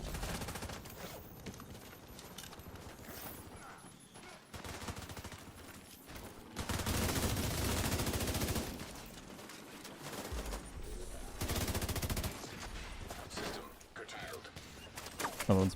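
Rapid gunfire in the Dark Zone of an online shooter game, sustained bursts and volleys that swell and ease across the span, loud and dense with someone talking over it.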